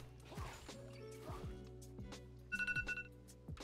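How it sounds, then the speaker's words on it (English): A phone rings with an incoming call in short, repeated electronic trills near the end, faint beneath clashing League of Legends game effects. "Oh shit, I got a phone call."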